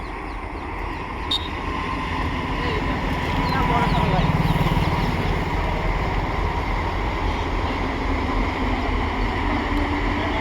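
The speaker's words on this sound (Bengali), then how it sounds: "এই যে দেখুন ট্রেন চলে আসছে" The Lalgola passenger train rolls into Nashipur Road station in Murshidabad with a heavy, steady rumble and clatter, filling the scene continuously while a voice talks over it.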